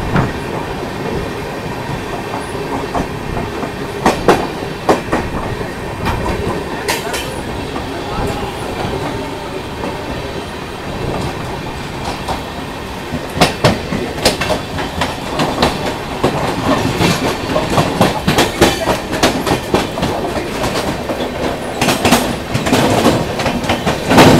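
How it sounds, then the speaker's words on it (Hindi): Mahabodhi Express passenger train running past the Chandigarh Madurai Express on an Indian railway line, with steady rumbling wheels and repeated clickety-clack rail joints throughout, loud and close, growing busier toward the end. "और यहाँ पे क्रॉसिंग अपनी हो रही है चंडीगढ़ मदुरई एक्सप्रेस के साथ।"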